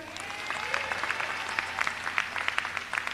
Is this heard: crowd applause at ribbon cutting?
yes